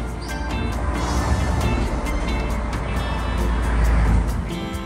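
A Toyota Hiace camper van cruises through Aso-Kuju National Park in Kyushu, its engine and road rumble steady and close, with broadband tyre noise swelling slightly toward the end.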